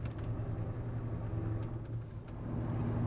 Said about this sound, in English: Let's put it in drive, see how it runs.